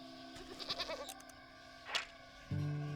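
A goat in Wytchwood gives a few short wavering bleats, joined by chiming game tones and a steady synth drone.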